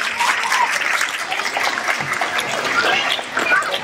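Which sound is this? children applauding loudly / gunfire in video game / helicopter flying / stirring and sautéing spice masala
children applauding loudly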